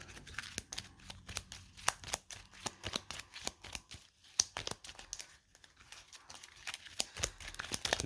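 Playing cards from an Apex Theropod tabletop game being shuffled, flicked and searched through by hand, a dense run of close crisp snaps and riffles in an irregular rhythm, with no talking.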